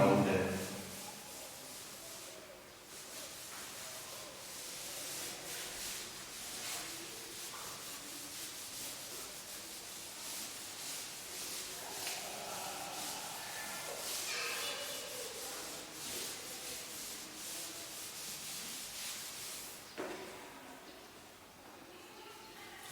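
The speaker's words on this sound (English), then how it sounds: "I am rubbing it and writing it down there." Steady scratchy rubbing of an eraser on paper while working a Class 7 integers maths exercise, continuing at close range through most of the stretch with soft shuffling, and a voice talking over it.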